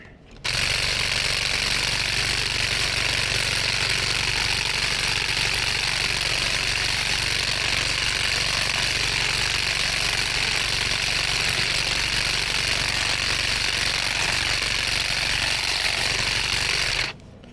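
A Saker 20V cordless hedge and grass trimmer cutting through lantana overgrowth, buzzing loudly and steadily near the microphone for the whole stretch, with no talk.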